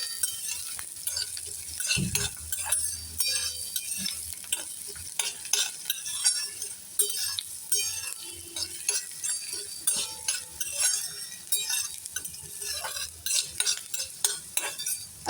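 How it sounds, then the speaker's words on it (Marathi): Crushed garlic and onion being sautéed in a pan for fenugreek leaf (methi) bhaji, a low sizzle under frequent spatula scrapes and light clinks against the pan, close and with no talking. "आता कांदा चांगला परतेपर्यंत, आता लाल होईपर्यंत, थोडा लाल होईपर्यंत म्हणजे शिजेपर्यंत परतून घेऊया।"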